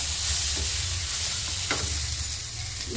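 Fresh field beans frying in a pan for a village-style tangy sambar, steady close sizzle with occasional stirring scrapes of the spoon.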